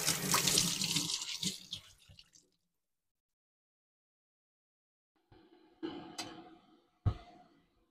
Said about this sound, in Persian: حالا لیمو را میشویمک.